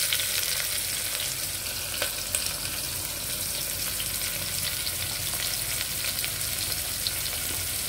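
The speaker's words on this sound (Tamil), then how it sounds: "வெங்காயம் வதக்கலாம்" Three large sliced onions fry in a pan with spices for a meal maker biryani, giving a dense continuous sizzle with faint stirring clicks throughout, close and without voices.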